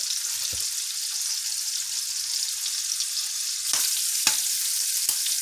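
Shrimp coated in five-spice seasoning sear in a hot pan with a steady, close sizzle, broken by a few sharp scrapes or stirs near the end.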